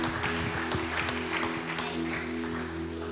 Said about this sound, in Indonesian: Kasih tepuk tangan yang kuat buat Tuhan.